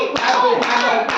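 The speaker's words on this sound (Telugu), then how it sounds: "Claps 18 claps." A small group claps at an anniversary cake cutting, a few quick bursts of applause close to the microphone with voices mixed in.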